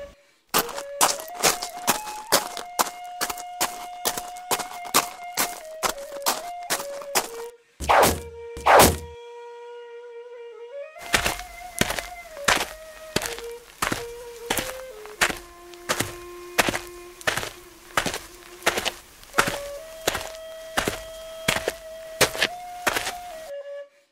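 Game meat being butchered and chopped, heard as a steady run of sharp thwacks, close and evenly spaced, over a sustained melodic tone with a short pause partway through.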